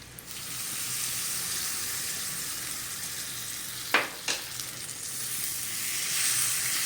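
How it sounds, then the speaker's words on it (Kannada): Hot oil sizzles steadily throughout as curry leaves are tempered, with two sharp bursts of crackling as something is dropped into the pan, then the hiss continues. "ಈಗ ಜಸ್ಟ್ ಇದು ಒಗ್ಗರಣೆ ಹಾಕ್ಬಿಡೋಣ."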